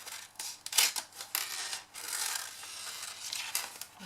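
Scissors cutting through card, a steady close rasping and snipping that runs for several seconds with a few sharper cuts and no talking.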